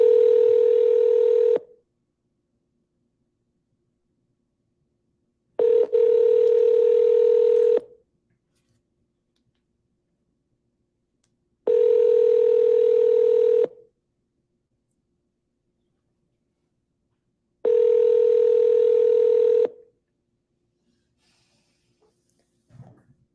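A telephone line rings four times in steady, evenly spaced bursts, each about two seconds long with long silent gaps, loud and clear while a call to a voicemail line waits to connect.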